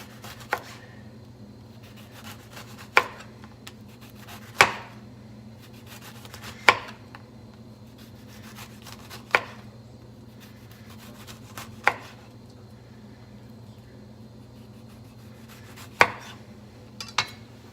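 Knife slicing a lemon into thin rounds on a cutting board, with sharp isolated chops every one to two seconds over a quiet background hum.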